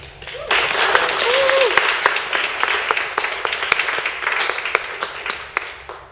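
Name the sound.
audience cheering and applauding a speaker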